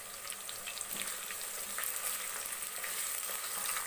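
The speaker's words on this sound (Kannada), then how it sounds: "ಈರುಳ್ಳಿ ಚೆನ್ನಾಗಿ ಸ್ವಲ್ಪ ಫ್ರೈ ಆಗಲಿ" Onions fry in ghee with spices and curry leaves in a pan, giving a soft, continuous crackling sizzle with scattered pops at moderate distance and no voices.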